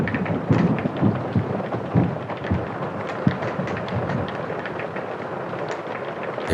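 Steady pouring rain with dense, continuous patter and occasional heavier splashes and low rumbles, filling the scene evenly throughout with no voices.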